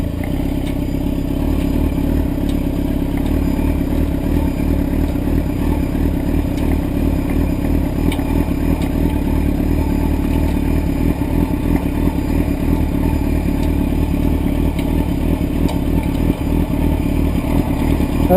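A motorcycle idles and rolls at low speed as it is turned around on a large flat parking lot, a steady close engine drone with mild clatter.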